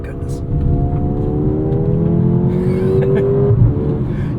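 A 2024 Mercedes GLA 35 AMG engine pulls hard, its note rising steadily through the revs as the car is thrown into a corner. The engine stays loud and close throughout, with a voice talking over it.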